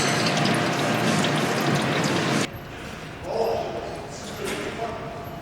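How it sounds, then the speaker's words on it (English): Old fluid being flushed out of an Audi Q7 with leftover fluid: a loud, steady rushing pour that cuts off abruptly, followed by quieter trickling and splashing. "We're just flushing out the old fluid with some leftover fluid here."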